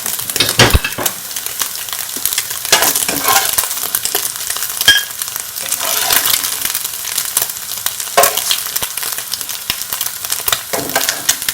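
Eggs frying in oil in a pot, a loud, close, continuous crackling sizzle with bursts of spattering and occasional utensil stirs, and no talking.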